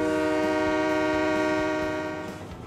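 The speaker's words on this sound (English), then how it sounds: "Forgot to mention, guys, there's a horn." A locomotive horn in the Train Mechanic Simulator 2017 video game sounds one long, steady, loud blast with rich harmonic tone, fading slightly at the end.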